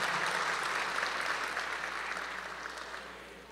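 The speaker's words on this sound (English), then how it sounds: "Give yourselves a round of applause for being here with us in this celebration at this time." Audience applause fills a festival ceremony hall, a dense steady wash of clapping that stays loud and gradually tapers off toward the end.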